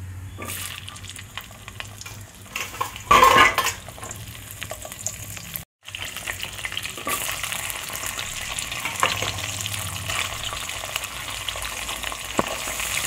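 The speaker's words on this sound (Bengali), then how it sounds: "আর একটু জিরে ফোড়ন দিয়ে দিচ্ছি" Cumin seeds and vegetables fry in hot oil, a continuous crackling sizzle with a loud spitting burst as ingredients go in, a brief silence, then steady frying with occasional stirring.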